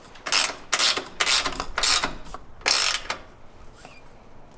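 A ratchet tightens the upper shock bolt of a Rancho RS5000X shock on a Jeep JL Wrangler, sounding as five loud, close bursts of rapid clicking separated by brief pauses.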